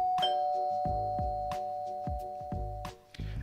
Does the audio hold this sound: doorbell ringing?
yes